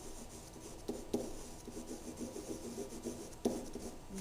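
Pen or pencil scratches out a geometry proof statement, soft continuous rubbing strokes with a few brief taps, close and quiet with no talking.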